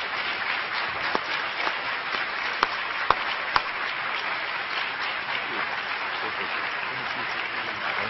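Steady, dense applause from a conference audience welcoming Congressman Elijah Cummings to a keynote on racism and Baltimore's future, sustained evenly throughout with a few sharper individual claps standing out.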